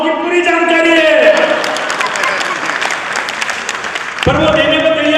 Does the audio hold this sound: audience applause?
yes